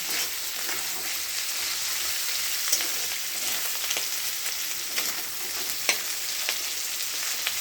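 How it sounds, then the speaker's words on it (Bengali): Shrimp frying in a pan produce a steady, close hiss of hot oil, broken by scattered crackles and pops throughout. "ভালো করে ভেজে নিতে হবে।"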